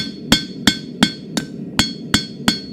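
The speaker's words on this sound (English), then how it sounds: "that's where you'll see using the different dies of the hammer" A hammer forges a small steel leaf for a key chain pendant, striking with different dies against an anvil: eight sharp, ringing metallic blows land at a steady, even pace, close and loud with no voices.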